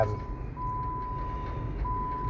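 A truck's reversing beeper sounds at a scrap yard as one long steady tone that briefly breaks and resumes, heard at moderate distance over low rumbling background noise.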